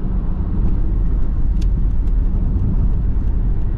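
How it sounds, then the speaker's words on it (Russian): A car drives onto a concrete highway section of the Kuldzha tract between Almaty and Shelek, Kazakhstan; heard from inside as a steady, loud low road rumble and engine drone with no pauses. "Так, выехали на бетонку."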